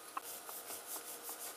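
A serrated knife saws softly through pinwheel cookie dough in short, faint rasping strokes repeated about every third of a second.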